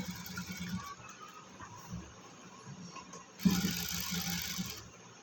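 A sewing machine stitches a cotton frock in short, quiet runs of rapid mechanical clatter, then a louder, longer burst of stitching near the end, with no talking.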